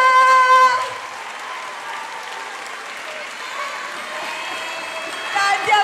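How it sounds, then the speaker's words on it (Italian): Birthday party guests break into sustained applause, a dense steady crowd clapping lasting several seconds, with voices and a few cheers mixed in. "applauso!"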